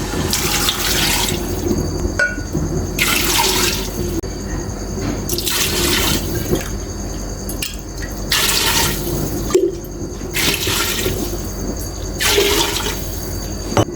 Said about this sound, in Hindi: छः गिलास इसमें मैंने पानी के डाले।